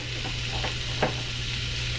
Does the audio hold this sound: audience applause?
no